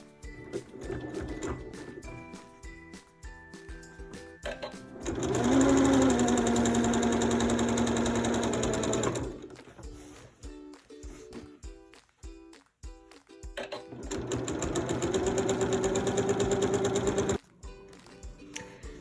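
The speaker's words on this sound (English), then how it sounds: "I'm going to put it under the machine, and I'm going to sew that last little piece of edge" A sewing machine stitches quilt binding along the edge, running in two long loud bursts of rapid mechanical whirring, with quieter ticking and handling between runs, close up and free of speech.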